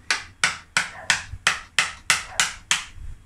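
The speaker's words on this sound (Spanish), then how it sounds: "primero con una gubia plana, con un formón, he cortado todo el borde de la corteza" A gouge and chisel cut elm wood toward the bark on a bonsai cutting, giving eight sharp, evenly spaced knocks about a third of a second apart, close and crisp with no talking.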